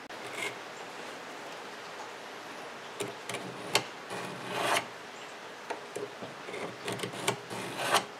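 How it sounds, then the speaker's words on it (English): A steel point is drawn across a knife handle to scribe a line, making quiet intermittent scratches and light ticks with pauses between strokes, close and faint, with no talking. "I think I'm going to scribe the line I want to follow for the pins."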